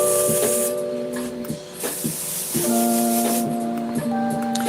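Airbrush spraying paint with a steady broadband hiss, the spray cutting in and out with short bursts and a faint tonal whine underneath; the airbrush still has a clog.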